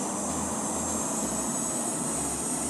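A simulated airliner's engines hum at high power before takeoff in the Infinite Flight simulator, a steady, loud, continuous drone with a low pulsing rumble and a high whine, no voices.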